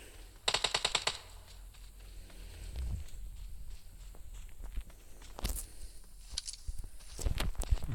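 Video game gunfire erupts as a rapid automatic burst of close, loud shots, followed by scattered sharper reports and footstep-like patter in a quieter game soundscape.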